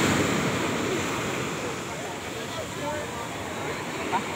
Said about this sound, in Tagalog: Natakot sa alon.